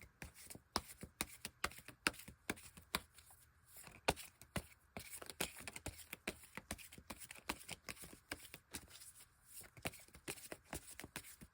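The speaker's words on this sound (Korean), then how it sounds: "여러분들을 위한 조언 카드 뽑아보도록 하겠습니다." Tarot cards being shuffled and drawn by hand: a steady run of crisp, close riffling slaps and flicks, quick and uneven, continuing alone with no talk.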